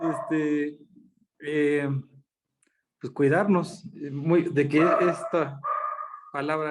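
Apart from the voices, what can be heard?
dogs barking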